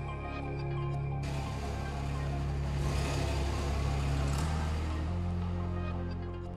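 Bus ride to the Calico Desert in the video game Stardew Valley, a continuous engine hum with rattling road noise that shifts in pitch partway through, steady and fairly loud with no voices.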